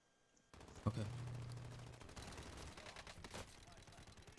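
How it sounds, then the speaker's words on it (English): Call of Duty Warzone gunfire in a fight at a hospital: a sustained burst of rapid automatic shots, fairly loud and continuous, with a player briefly talking. "Are you shooting at him?"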